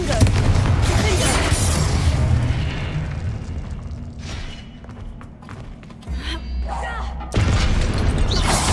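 In the Hogwarts Legacy video game, the Confringo fire spell sets off explosions: a long rumbling boom that fades, then a sudden deep thump and another loud burst near the end, with some voice or game sounds mixed in.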